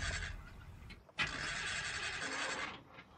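A car engine cranks but fails to start, a steady broadband whirring drone that cuts out briefly and resumes for about a second and a half before stopping, close and fairly loud with no talk over it.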